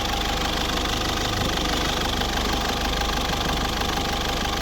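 A 2000 Mercedes Vito W638 2.2 CDI diesel van engine idles close by, steady and loud, with a constant low rumble and rhythmic knocking, unchanging throughout, no voices.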